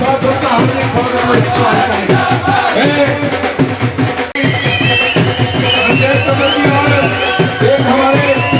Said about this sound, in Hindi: खड़े होकर अपने स्थान पे खड़े होकर जोरदार तालियों के साथ उनका हार्दिक स्वागत